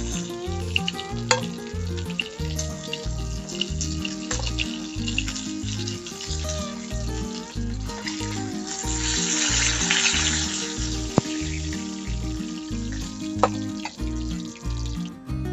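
Pieces of snakehead (shol) fish fry in oil with a steady, fairly loud sizzle that swells for a few seconds midway, alongside a few sharp clicks and clatters close by.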